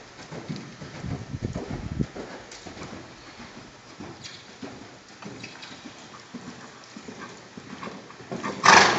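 A horse canters under saddle in a riding session, its hoofbeats thudding in a quick repeating rhythm at moderate distance over a hissy outdoor background, with a louder burst near the end.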